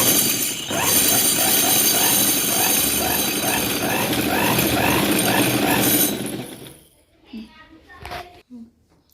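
A sewing machine winding thread onto a bobbin gives a loud, steady, rhythmic mechanical whirring and clatter for about six seconds, then stops abruptly, leaving a few faint handling knocks.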